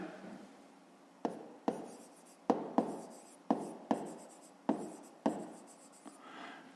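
Handwritten math working for a fifth-grade problem: a pen scratches across paper in steady strokes, with sharp taps marking about eight separate marks over a quiet background, close and clear with no talking.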